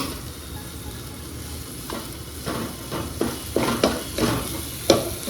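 Fresh grated coconut roasting in a home kitchen pan, soft sizzling under scattered stirring scrapes that grow louder and more frequent toward the end.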